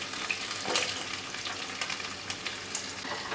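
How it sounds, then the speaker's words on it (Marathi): Onion fries in a spiced tempering in a pan, giving a close, steady sizzle with soft crackles and occasional stirring, with no talk. "फोडणी चांगली परतून झाल्याच्या नंतर यामध्ये आपण कांदा घालूया"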